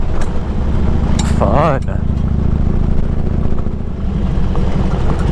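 A 20-year-old Harley motorcycle rides on a gravel road with a loud, steady engine drone, and a voice speaks briefly over it near the start.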